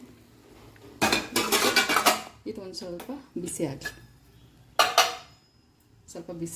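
Metal kitchen vessels clatter and clink in repeated bursts as an idli steamer pot is lifted and set aside, with someone talking between the clangs.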